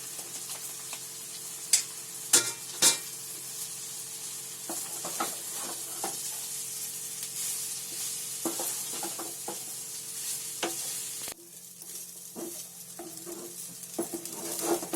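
Cooked rice is tossed into a pan of vegetables and stir-fried for fried rice, giving a steady soft sizzle with scattered light ticks and scrapes of a spatula, quiet and close.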